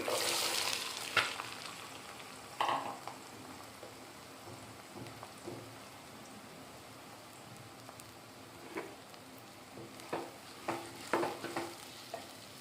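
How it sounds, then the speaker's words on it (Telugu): Medium onions frying in a pan for an Andhra-style egg and broad bean curry, a faint continuous sizzle with occasional soft stirring clicks, fairly quiet and without talk. "ఇవి బ్రౌన్ కలర్ వచ్చే వరకు వేయించుకోవాలి"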